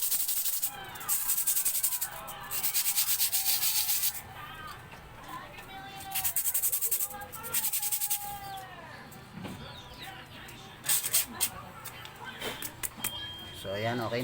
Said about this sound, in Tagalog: liha muna natin siya sa part na magaspang